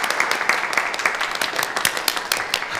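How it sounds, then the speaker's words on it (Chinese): A small group clapping at an indoor gathering, brisk, close, uneven handclaps that continue steadily throughout, with a voice faintly mixed in. "掌声来！"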